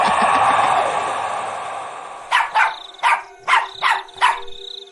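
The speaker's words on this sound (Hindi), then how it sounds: "देखिए टफी फिर से भौंक रहा है" A pet dog named Tuffy barks at night, five or six sharp close barks in quick succession after a stretch of steady background hum.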